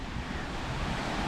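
Rough surf churned up by wind and rain washes onto the beach at Hopkins, Belize, a steady, close roar of breaking waves with gusty wind.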